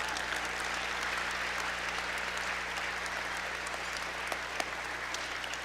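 A large audience at an induction ceremony applauds steadily for several seconds, a dense, even wash of clapping heard from a little distance over a low hum.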